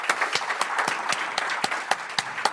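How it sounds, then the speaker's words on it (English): Sparse audience clapping at a tire industry conference session, a handful of distinct claps in an irregular rhythm, fairly faint and brief. "You guys choose when to clap."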